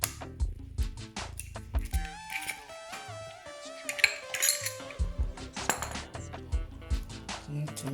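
Black cherry pie ingredients are mixed in a bowl with a utensil: brisk, repeated metallic clinks and scraping taps come in an uneven rhythm up close, with brief talk in places.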